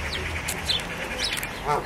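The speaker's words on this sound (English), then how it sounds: "Noisy ducks." Several ducks quack and chatter nearby, short nasal calls scattered over a low outdoor rumble, with a louder quack near the end.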